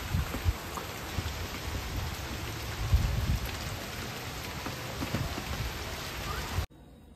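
Steady rain pours outdoors, a dense continuous patter of drops on surfaces with a few heavier splashes, close and constant before cutting off abruptly.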